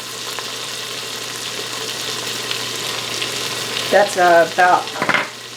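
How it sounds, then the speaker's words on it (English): Poblano corn and chicken chowder ingredients are stirred inside an Instant Pot, giving a continuous sizzling, scraping churn at close range, with a few spoken words near the end. "Stir, stir, stir."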